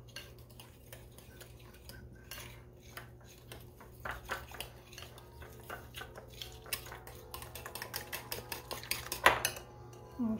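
A utensil stirs white cornmeal in a bowl, with quiet, close scraping and clinking that builds into quicker taps toward the end.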